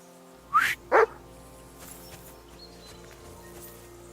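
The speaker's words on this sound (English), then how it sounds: "Call off that damn dog!" Two short, sharp dog barks from a dog in the medieval video game Kingdom Come: Deliverance II, heard close and separated by a brief pause, followed by quiet ambient game sound.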